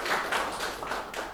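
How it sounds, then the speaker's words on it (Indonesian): Students in a class clap together for a short burst of applause, with a few uneven quick claps. "Beri tepuk tangan."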